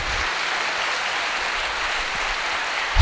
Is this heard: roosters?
no